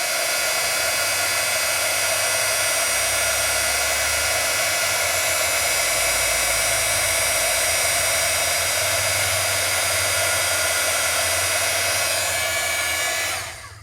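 A heat gun blows hot air over embossing powder in a steady, loud whooshing hiss that stays even for about thirteen seconds before cutting off.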